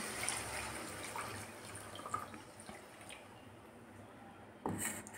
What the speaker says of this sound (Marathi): तर मिक्सरच्या भांड्यामधलं जे पाणी तर तेच यामध्ये टाकून घेते।